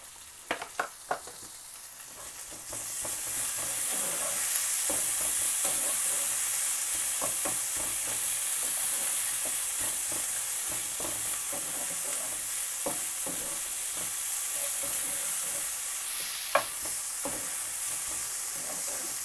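Onions sauté with garlic-ginger paste in a hot pan, a loud steady sizzle and frying hiss with scattered stirring scrapes and clicks close by, no talking.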